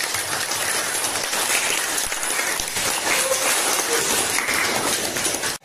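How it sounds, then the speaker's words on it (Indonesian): A classroom group claps together in a dense, continuous burst of applause lasting several seconds, then cuts off abruptly. "Tepuk tangan dulu kita, Pak."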